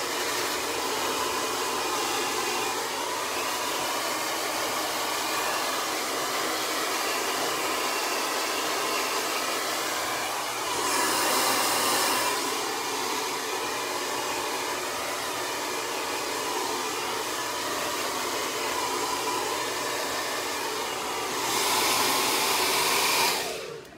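A hair dryer blows steadily on its cool shot setting while hair is dried with a flat brush, a loud constant whooshing drone lasting throughout, with two brief surges in airflow and no talking.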